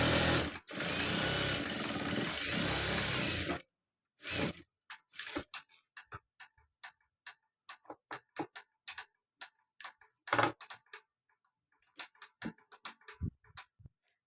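A sewing machine stitching a uniform coat jacket runs in one long steady burst, then breaks into a string of short, clicking bursts with gaps between them, close and fairly loud with no talking.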